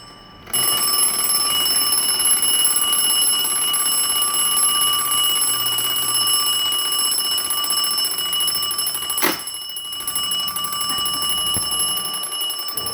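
An 1870 illuminated alarm clock rings its alarm in one continuous, loud, bright metallic peal for about twelve seconds, with a brief sharp click near the end.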